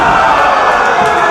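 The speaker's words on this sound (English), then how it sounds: "This crowd is electrified right now" A dense, loud roar from a live pro wrestling crowd cheering, sustained and steady at a Beyond Wrestling gauntlet match, with no single voices standing out.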